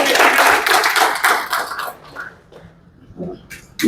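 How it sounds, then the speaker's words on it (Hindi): An audience claps at a business presentation on computer hardware solutions: dense, loud applause for about two seconds, then fading to scattered claps. "दोबारा ताली बजा देते हैं"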